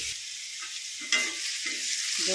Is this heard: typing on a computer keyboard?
no